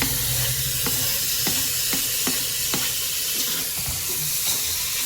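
Tomatoes hit frying ginger-garlic paste in a pan for Chennai-style home biryani, producing a constant hissing sizzle with a series of distinct spoon clicks and scrapes as the mix is stirred.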